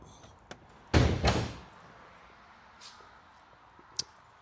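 Hood of a muscle car being opened, a brief close creak and thunk of the metal panel followed by faint clicks in a quiet space.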